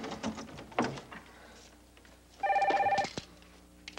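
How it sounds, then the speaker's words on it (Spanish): A single short electronic telephone ring sounds once in a quiet room, with faint knocks and shuffling around it. "Estoy sonando el teléfono."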